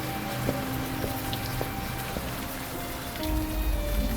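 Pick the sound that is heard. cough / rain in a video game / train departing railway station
rain in a video game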